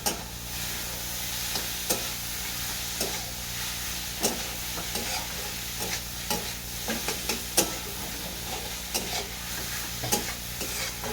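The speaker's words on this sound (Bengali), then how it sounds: "পেঁয়াজ কুচি লঙ্কা কুচি আদা কুচি সব দিয়ে দেবো আবার এটাকে কষে নেব" Chopped onion, green chilli and ginger sauté in an oiled pan for cauliflower paratha filling, a steady low sizzle with intermittent spatula scrapes and taps at uneven intervals, close and moderately quiet, with no talking.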